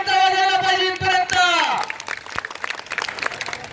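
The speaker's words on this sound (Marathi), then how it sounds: "जरा टाळ्या वाजवा सर्वांनी एकदा कमिटीसाठी." Crowd applause and cheering at a village wrestling (kusti) event in Wakad, rising into a loud burst of clapping and shouts from a large outdoor audience after a sustained tone.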